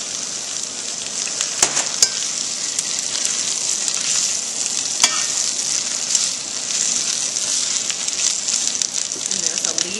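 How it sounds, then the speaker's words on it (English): Spinach sizzles and crackles steadily in hot olive oil in a pan, a loud continuous hiss with scattered pops and tong clicks, a voice talking intermittently over it. "I'm going to dump the spinach in here, and it's already sizzling"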